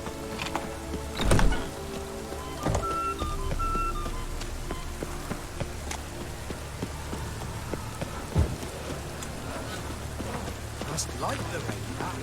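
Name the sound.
rain in video game The Witcher 3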